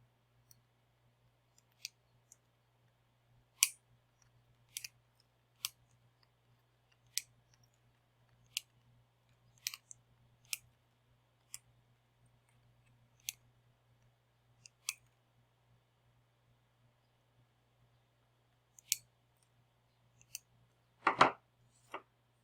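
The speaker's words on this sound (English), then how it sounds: "Next, trim off all the leads." Sharp, isolated snips of cutters trimming the soldered leads of resistors on a MIDI Sprout circuit board, about fifteen crisp clicks at irregular intervals over a steady low hum, ending in a brief clustered rattle.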